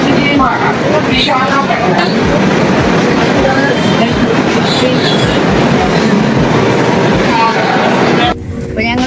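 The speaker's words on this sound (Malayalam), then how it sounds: "ഞങ്ങൾ ബാംഗ്ലൂർ റെയിൽവേ സ്റ്റേഷനിലാണ് നടന്നുകൊണ്ടിരിക്കുകയാണ്" A train rumbles loudly through Bangalore railway station with a continuous rolling roar and rhythmic wheel clatter, heard up close while walking along the platform, before the sound drops abruptly at the end.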